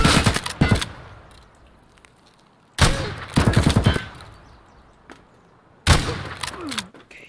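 Three loud bursts of rapid gunfire from Escape from Tarkov, separated by quiet gaps, each a quick rattling volley with a sharp attack.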